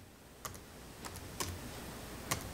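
Quiet typing on a computer keyboard, a handful of sparse, separate keystroke clicks alone against faint background hiss.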